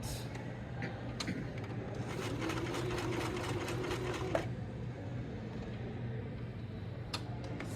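A sewing machine runs steadily while stitching fleece for plush making, a continuous close hum with a ticking needle rhythm for about four seconds before it stops and the room falls quieter.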